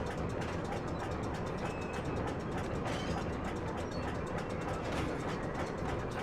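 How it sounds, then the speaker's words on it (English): A tram rolls along in the video game Little Orpheus, giving a continuous rumbling rail noise with faint rhythmic clacking that holds steady throughout, with no voices over it. "Oh, it moves the tram."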